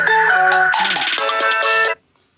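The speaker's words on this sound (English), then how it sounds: "I hear my phone ringing" A phone ringtone plays loud and close, a busy electronic melodic pattern that shifts partway through and cuts off abruptly after about two seconds, leaving silence.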